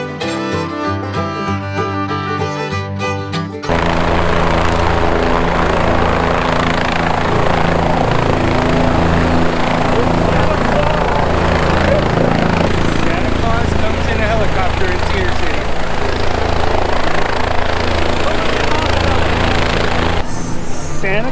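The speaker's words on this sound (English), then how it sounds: "Santa Claus just showed up in a helicopter in Cedar City." A helicopter carrying Santa Claus roars loudly and continuously nearby in Cedar City, its rotor chop and engine drone filling the scene after a brief stretch of music at the start.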